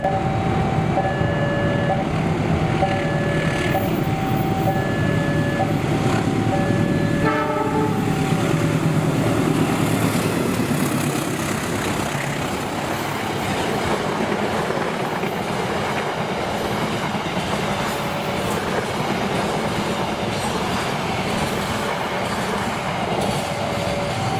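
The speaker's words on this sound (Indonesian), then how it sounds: "Selanjutnya kereta api Menoreh 226A." Indonesian passenger train Menoreh 226A passes close by: a sustained loud rolling rumble with wheel clatter, and a horn sounding several times in the first half before the steady roar of the cars continues.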